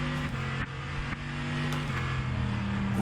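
A hypercar from the rFactor2 sim racing game holds a loud, continuous engine note, pitch stepping up and down as gears shift, with a couple of short dips, no voices.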